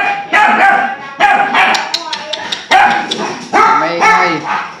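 Loud, insistent barking from a nearby dog, several bursts in a row with brief gaps between them.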